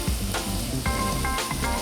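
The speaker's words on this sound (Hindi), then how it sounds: "अभी इसको हमें अच्छी तरह भूनना है ताकि ये कलर अपना ले ले" Palak paneer gravy sizzles steadily in a hot pan while being sautéed, a dense close frying hiss broken by a few soft stirring scrapes of a spoon.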